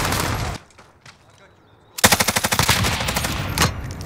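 Bruin LMG light machine gun firing in Call of Duty: Modern Warfare, a loud sustained burst of rapid rhythmic shots after a brief quieter stretch, with a short earlier volley and some in-game speech.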